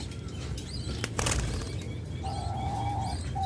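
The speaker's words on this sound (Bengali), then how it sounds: "আমাদের কাছে রয়েছে হিউজ পরিমাণ ডায়মন্ড ঘুঘু দেখুন" Diamond doves at a breeding setup make a soft, low, drawn-out call near the end, after a brief flutter of wings, all faint against a quiet room hum.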